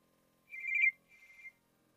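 A telephone rings twice in a quiet room, a clear trilling bell-like burst followed by a slightly softer second ring, with nothing else heard.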